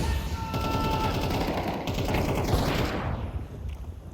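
AK rifle fire in a Counter-Strike 2 esports match at IEM Dallas 2025: dense rapid bursts of gunfire and clattering shots, loud and continuous for several seconds, with game background noise.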